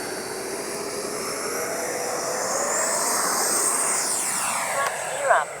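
A Freewing Avanti S V2 RC jet on SMC packs taking off in calm air, its high turbine whine swelling steadily as it accelerates and passes, with a sharp doppler shift near the end.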